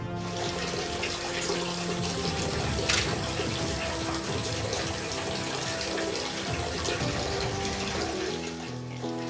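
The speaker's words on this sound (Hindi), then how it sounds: "पहाड़ों के दरमियान से रिसती बूंदों को पत्ते के सहारे इकट्ठा करने को यहाँ के लोग पानी कहते हैं" Water seeps from between rocks in rural Jharkhand and trickles into a leaf held to collect it, a continuous splashing trickle heard under a steady background of other sound.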